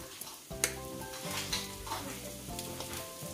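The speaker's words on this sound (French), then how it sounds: "je mets ail et je vais mettre gingembre" Garlic and ginger added to onions sizzle in a pan, a steady frying hiss with intermittent clinks and scrapes of stirring throughout.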